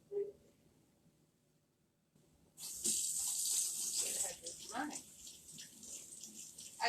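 Warm water from a cup pours into a meatloaf mixture of oatmeal and other ingredients, a brief steady splashing gush, fairly close and not loud.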